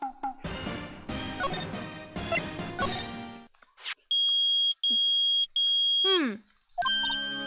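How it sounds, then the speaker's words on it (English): Steady electronic beeping from a metal detector in loud, sustained bursts with brief gaps, preceded by music, from the video game Phoenix Wright: Ace Attorney. "it's beeping. The metal detector's found something."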